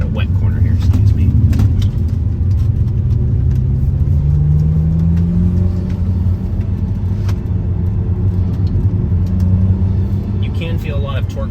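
Cabin of a SAAB 9-3 Turbo X taking a wet, bumpy, off-camber corner: a steady low engine drone that rises gently in pitch, with road rumble and a person talking over it.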